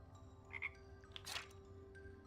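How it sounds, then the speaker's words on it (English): A frog croaks in the video game Wytchwood: a few short, faint calls against quiet ambient game sound, with no talking. "Oh, a frog."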